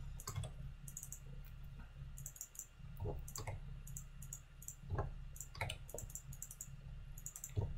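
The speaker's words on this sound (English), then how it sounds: "So it's Alt key to select the color you want, and then just left click for both." Computer mouse and keyboard clicks while editing a backlit tree photo, with sharp irregular clicks scattered over a steady low hum and no speech.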